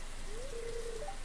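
Rain falls steadily in Stardew Valley, a dense even hiss filling the whole moment with no pauses, and a faint thin tone drifts above it briefly.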